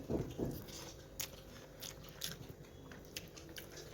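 Close chewing of rice with hilsa fish and pumpkin curry, a few soft bites and mouth noises near the start, then quieter intermittent chewing.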